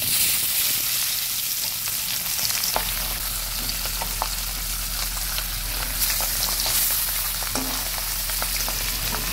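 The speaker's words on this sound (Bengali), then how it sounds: "তেলটা ভালোভাবে গরম হলে আঁচটা কিছুটা কমিয়ে এবার আস্তে আস্তে মাছগুলো দিয়ে দেবেন।" Pabda fish frying in hot oil on a lowered flame, a loud steady sizzle that crackles continuously for the whole stretch with occasional sharper pops and no talking.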